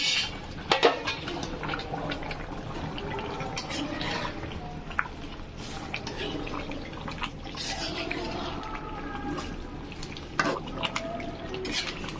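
Meat braising in a pan, stirred and scraped with a utensil amid a steady sizzle and clinks of cookware, with a few louder knocks and faint background voices.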